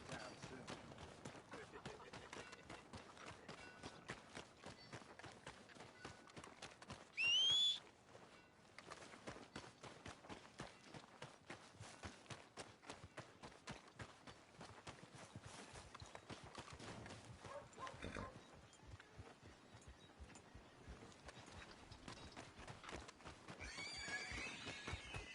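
Horse in Red Dead Redemption 2 gallops with rapid, even hoofbeats throughout, broken by a sharp whinny about a third of the way in, fairly quiet overall with game ambience behind.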